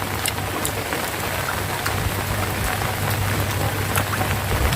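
Steady rain falls over an open rice paddy, a dense even patter of drops with occasional sharper taps, close and continuous with no voices.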